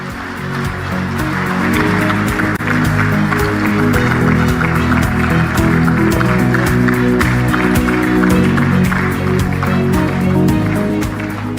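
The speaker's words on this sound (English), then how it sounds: "another big round of applause to our host" Audience applause at a heads of state energy summit in a large hall. Sustained, dense clapping from a big crowd, loud and steady, with no pause.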